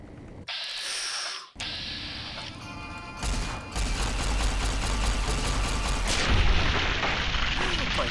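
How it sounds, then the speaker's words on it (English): Rapid gunfire in Fallout New Vegas, a loud dense burst of shots over engine-like rumble with a clipped crash near the start, continuous and aggressive through most of the stretch. "I can shoot this thing fast."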